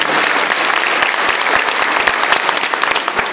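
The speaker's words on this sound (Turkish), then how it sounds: "Kendilerine şöyle dua mahiyetinde bir alkışla inşallah gönderelim diyorum." Dense, steady audience applause from a crowd gathered at a Turkish mosque-related event in Mersin, many hands clapping together at a constant loudness throughout.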